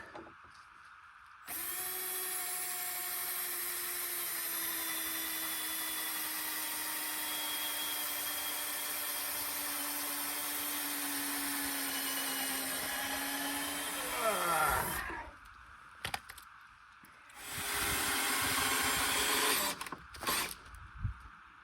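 A power tool drives lag bolts into a log during work on a garage door, whining loudly and steadily for about thirteen seconds as the pitch slowly falls. The motor then bogs down and stops, and a few shorter bursts follow.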